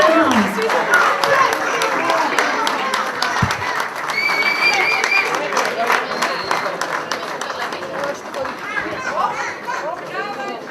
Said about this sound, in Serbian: Molim za još jednom veliki aplauz za najbolje ekipe u kategoriji seniorki pištolj na finalu Kupa Srbije